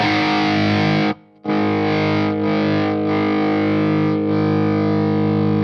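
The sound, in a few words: electric guitar through high-gain distorted amp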